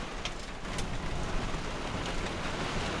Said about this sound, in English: But look at the rain.